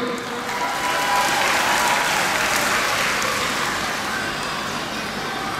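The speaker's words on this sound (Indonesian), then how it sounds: "tepuk tangan buat kita semua dulu nih" Steady applause from a sizable audience at a cooperative's annual members' meeting in East Nusa Tenggara, Indonesia, broad and continuous clapping filling the whole stretch without pause, fairly loud throughout.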